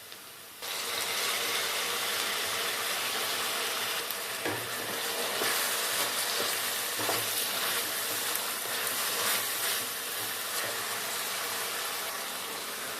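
Tomatoes sizzle and fry in a hot pan of browned onions for palak dal, a steady loud crackle starting abruptly and running throughout with occasional stirring clinks, no talking.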